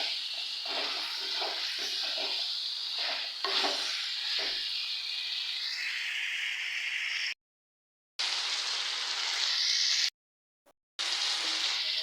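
A shrimp, potato and bean curry cooks in a pan as tomato is added, giving a loud, continuous sizzle with stirring scrapes near the start. The sound cuts out twice, briefly, with no voices.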